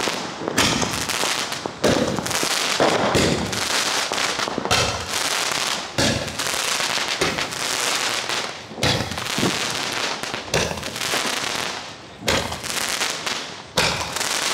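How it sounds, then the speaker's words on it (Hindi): Diwali aerial firecracker shot during a celebration in Kota, bursting repeatedly overhead in a dense, loud sequence of booms and crackles lasting the whole stretch, with short gaps between volleys. "ये फटाका जो है 12 बार फूटेगा ऊपर जाके"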